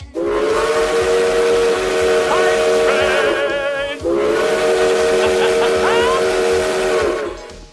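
Two long, loud blasts of a steam train whistle used as a hype train sound effect, each steady and hissing for about three to four seconds, separated by a brief gap, with no talking over them.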